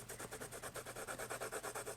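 A pencil is drawn in quick circles on paper in a steady, even rhythm of soft rasping strokes, close and quiet, with no talking.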